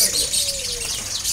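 Weaver birds chirp and twitter densely in a bird market kiosk at Pramuka, a busy high-pitched chatter close by with a faint cooing note running underneath.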